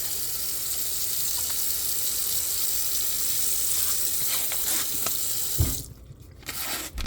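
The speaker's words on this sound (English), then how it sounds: "I'm going to wash my hands really quickly." Water runs steadily from a kitchen sink tap as hands are washed in the middle of making biscuits, a continuous close hiss that cuts off near the end with a few small knocks and splashes.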